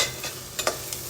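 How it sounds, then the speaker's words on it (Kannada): Chopped onion cooking in a pan for a spinach recipe. It sizzles steadily, and four or five sharp scraping strokes of stirring cut through the hiss. "ಆನಿಯನ್ ಬೇಯ್ತದೆ."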